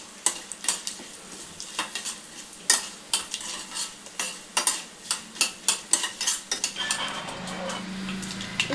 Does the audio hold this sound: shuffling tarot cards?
no